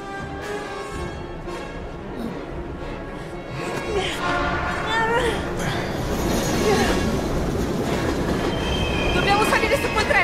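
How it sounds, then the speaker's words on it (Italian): A train passes by in the video game Heavy Rain, a steady rumbling roar with wheel squeal and rattling wagons that swells slightly louder over the clip, with speech faintly present beneath. "Dobbiamo salire su quel treno, Ethan."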